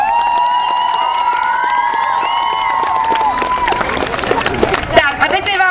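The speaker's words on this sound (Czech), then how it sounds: "Takže velikánský potlesk pro ně" Audience applause and cheering for dance performers at an International Dance Day event in Frýdek-Místek, with a loud, busy crowd under sustained tonal sound and clapping that grows denser toward the end.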